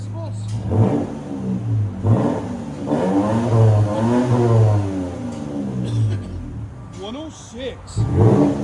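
A 2024 Toyota Tacoma 3.5L V6 running a Flowmaster Super 10 exhaust, with the stock muffler removed, revs in several loud bursts close by. A deep idle burble continues between the blips.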